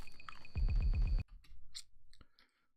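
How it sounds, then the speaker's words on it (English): Film sound effect of someone chewing glass: a run of wet, crunchy bites and squishes in a quick rhythm, close and fairly loud, followed by fainter clicks and drips, with no voices. "And now she's chewing it."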